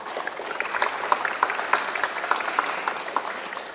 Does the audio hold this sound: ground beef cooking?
no